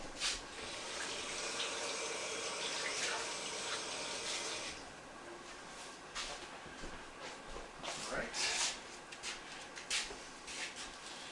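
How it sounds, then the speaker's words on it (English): Hands are rinsed under a running kitchen tap, a steady, soft wash of water that breaks into uneven splashes as the hands move under the stream. "I'm going to rinse off my hands."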